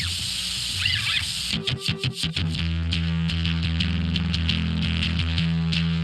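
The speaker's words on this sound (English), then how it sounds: "Distortion, OTT, a different amp, and a different cabinet." Distorted electric guitar run through an amp with OTT multiband compression and a cabinet simulation, a dense buzzing tone with sustained chords and choppy strummed hits, loud and steady throughout.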